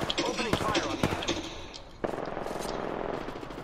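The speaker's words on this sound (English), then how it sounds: "Opening fire on the enemy." Video-game gunfire crackles through a fast volley of sharp, close shots in the first two seconds, then settles into a dense, continuous rattle of firing and impacts; players' voices can be heard over the action.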